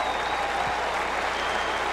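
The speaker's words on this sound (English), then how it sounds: "the crowd here enjoying it" A cricket crowd at a 1993 West Indies versus Australia test match applauding a four, a steady, dense wash of clapping that holds at full strength through the whole stretch.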